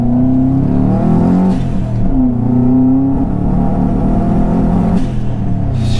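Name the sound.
car engine revving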